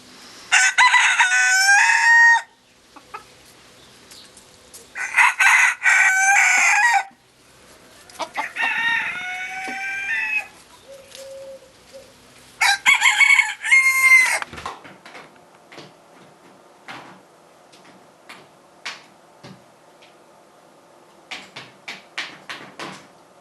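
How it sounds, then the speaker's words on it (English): A rooster crows loudly four times in succession, close by in a garden, followed by scattered knocks and light clucking in a quiet setting. "First crow in the garden."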